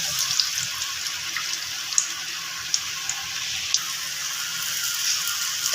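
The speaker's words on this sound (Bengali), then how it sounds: "তেলটা গরম হয়ে গেছে আমি ভেজিটেবিল চপগুলো ছেড়ে দিলাম" Breadcrumb-coated vegetable chops fry in hot oil with a continuous bright, hissing sizzle, scattered small pops and crackles throughout, close and moderately loud, with no voices.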